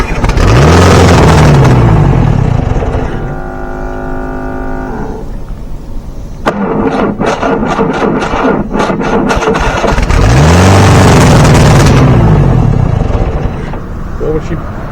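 An M151 MUTT military jeep engine runs loud and close, with two big rising and falling revs around a rougher, sputtering idle. Voices are heard alongside it.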